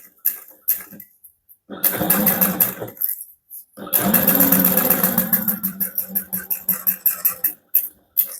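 A sewing machine stitches a handbag seam in bursts of rapid mechanical whirring, two longer runs with short pauses between them, then stuttering backstitch pulses near the end, close and clear.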